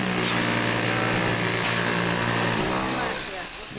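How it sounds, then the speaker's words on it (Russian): Rotary hammers and jackhammers pound away at a building renovation site where a former collective farm office is being converted into a clinic, making a steady, loud, dense mechanical din that fades slightly near the end. "по нестихающему шуму перфораторов и отбойных молотков еще и слышно"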